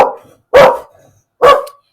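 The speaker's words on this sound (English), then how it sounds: "Dallas is barking" A pet dog named Dallas barks indoors, two sharp, loud barks about a second apart, preceded by the tail of an earlier one, with silence between.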